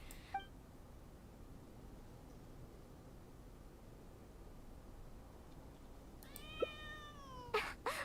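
Cats in the video game Genshin Impact meowing over a steady hiss, a brief mew at the start and a longer drawn-out meow near the end, followed by a couple of sharp clicks.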